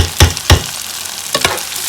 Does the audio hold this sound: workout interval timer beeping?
no